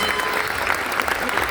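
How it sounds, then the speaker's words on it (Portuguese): A convention audience applauds in São Paulo, producing a dense, loud wash of clapping from many hands, with some voices mixed in. "Então uma forte salva de palmas, por favor, a essa família que permitiu"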